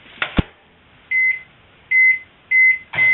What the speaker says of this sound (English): So I got to microwave my cheese dip real quick.